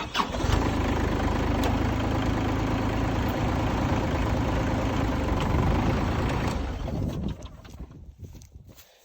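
A Massey Ferguson tractor engine cranks and catches, then runs with a steady close mechanical rumble for several seconds before the noise drops away toward the end.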